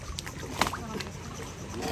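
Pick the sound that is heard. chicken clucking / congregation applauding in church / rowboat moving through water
rowboat moving through water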